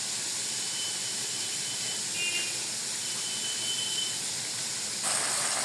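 Meat sizzles in a pan as it is stirred, a steady loud hiss that runs without a break and swells a little near the end, with no talking over it.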